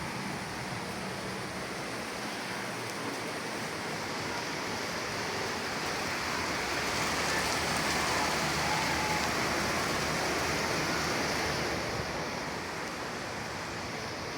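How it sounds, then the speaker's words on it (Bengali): Steady rain falls outside a home in a broad, even hiss that swells slightly midway and stays constant throughout, with no voices. "এই যে বৃষ্টি, আমি যে কত তাড়াহুড়ো করে হচ্ছে বাসায় আসছি, কমে গিয়েছিল, এখন আবার হচ্ছে শুরু হয়ে গেছে"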